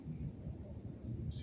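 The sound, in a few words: air show aircraft rumbling like thunder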